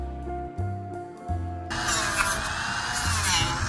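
A Dremel rotary tool grinds damaged core foam out of a crashed electric hydrofoil board, starting with short bursts, then running as a steady, close, high-pitched whine.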